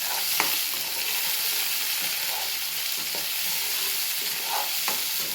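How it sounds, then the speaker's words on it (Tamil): Curry leaves fry and get stirred in a pan, a steady broadband sizzle with occasional spatula scrapes and clicks, close and alone without talk. "கருவேப்பிலை போட்டு நல்லா வதக்கி விட்டுக்கலாம்."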